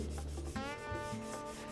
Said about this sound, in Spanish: luego lo paso una lijita, grano 180 o 220 para que quede mejor pulido